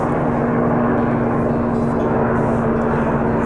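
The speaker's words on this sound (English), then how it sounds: "that is a helicopter heading to the military base that's just over that way." A military helicopter flies toward a base near Comox, its engine and rotor drone loud and steady throughout, a continuous low rumble with no talk over it.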